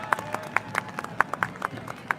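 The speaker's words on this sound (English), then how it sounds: "let's give them a round of applause right here" Scattered clapping from spectators along the street at the Gettysburg Remembrance Day Parade in 2019, individual claps distinct and fairly close in a thin, brief outdoor round.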